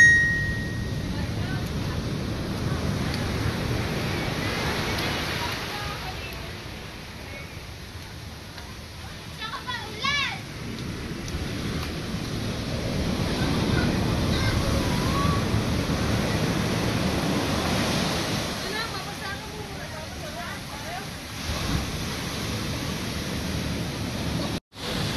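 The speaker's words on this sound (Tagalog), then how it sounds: "Ang lalakas ng alon." Strong waves surging at a beach on a rainy day after swimming was banned, a broad continuous roar of surf throughout with people talking over it.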